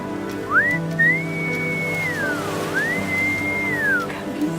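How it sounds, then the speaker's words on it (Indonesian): A person whistles a clear, steady melody of rising and falling tones for about four seconds, alone over a quiet hum of background noise. "Coba deh, kamu siul."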